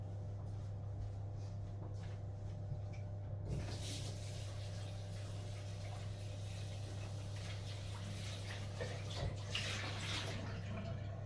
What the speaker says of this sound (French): Je vais le mouiller à l'eau froide.